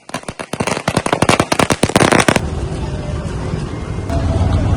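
A rapid string of firecrackers bursts loudly at a Congress party workers' celebration at the Kanakapur crossroads in Chanda mandal, sharp cracks crowding for a couple of seconds before fading into crowd noise and traffic rumble.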